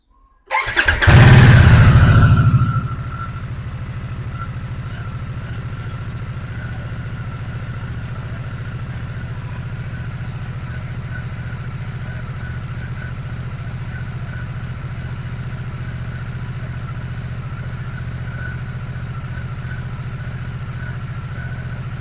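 A 2024 Harley-Davidson Nightster Special on its stock exhaust fires up with a loud burst of revs, then settles into a steady, low, even idle that carries on alone for a long stretch.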